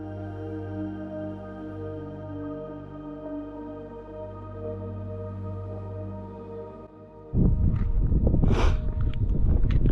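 Steady low rumble of wind buffeting a microphone, then a louder, rougher gusty burst near the end; no voices.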